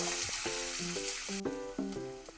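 Onions sizzle steadily in hot oil in a pan on a gas stove, a bright, close frying hiss that runs throughout with light stirring touches and no talk.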